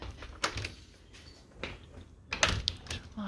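A house door leading out to a carport is opened, giving a few soft clunks and rattles of the latch and door at close range in a quiet kitchen area.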